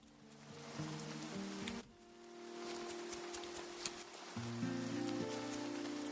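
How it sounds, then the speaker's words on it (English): Rain falls steadily in the farming game Grimshire, a soft constant patter with a few brighter drips, layered under gentle looping music tones. "Oh, rainy day."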